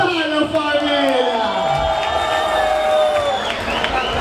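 A crowd at a rap battle during a street cultural festival cheers and whoops loudly, with voices calling out over the noise and tonal shouts trailing across the sustained roar.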